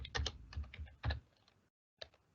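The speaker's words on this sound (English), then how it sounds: "if I start typing underneath the table" Rapid bursts of computer keyboard typing, crisp and close, clustered keystrokes in quick runs with a brief pause before a final couple of taps.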